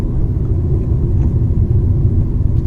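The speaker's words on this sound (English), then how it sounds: "let's see how this car performs on rough roads." A Hyundai Verna petrol sedan drives over a rough stretch of road in Coimbatore. Heard from inside, a loud, steady low rumble and road noise carry on without talk.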